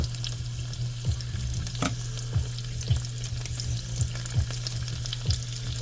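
Homemade chashu pork fries in a pan for yaki udon, a steady sizzle under a low hum, with a sharp clatter and a series of regular scrapes from stirring; no one speaks.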